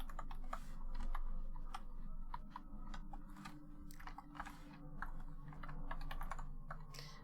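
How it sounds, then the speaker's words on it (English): Rapid clicking of computer keyboard keys, fast irregular taps in bursts at close range, fairly quiet over a low background hum. "I was just typing too quickly, I guess"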